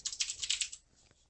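A brief burst of rapid keystrokes on a computer keyboard while entering code, a quick run of close, crisp clicks that stops after under a second, leaving near silence.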